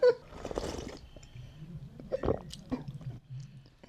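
Close-up eating of Filipino chicken tinola soup, with wet slurps and soft swallowing and chewing noises in short bursts separated by quiet gaps.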